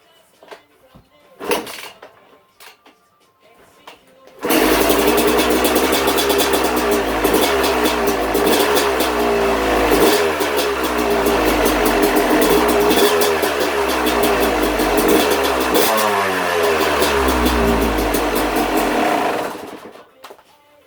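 A Yamaha YZ250 two-stroke dirt bike fitted with a modified cylinder head starts after a few kicks and runs loud and close, revving up and down in repeated rising-and-falling sweeps before cutting off.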